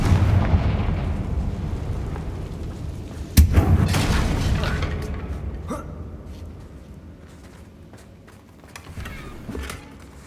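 Confringo fire spell from Hogwarts Legacy bursting in a sharp, loud explosive boom, followed by a rumbling, crackling decay and a few smaller pops, with game sound underneath.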